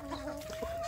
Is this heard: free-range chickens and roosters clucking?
yes